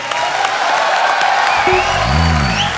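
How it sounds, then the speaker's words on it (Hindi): A studio audience at the Kapil Sharma Show claps and cheers to welcome actor Irrfan Khan, a loud, continuous wash of applause with whoops, while a brief tonal music sting sounds underneath. "इरफान भाई के लिए जोरदार तालियां"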